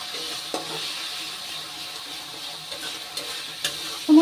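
Spice paste for hilsa fish curry with eggplant frying and being stirred in a pan, giving a steady low sizzle with a few soft scrapes and a louder clack near the end.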